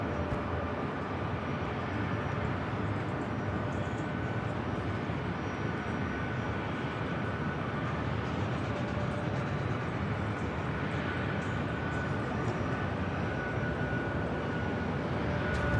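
An airliner making a north side departure at LAX gives a steady, continuous jet roar that stays even and moderately distant across the whole stretch.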